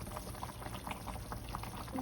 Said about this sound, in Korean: 보글보글 맛있는 돼지고기 김치찌개 완성!